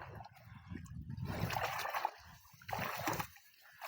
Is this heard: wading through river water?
yes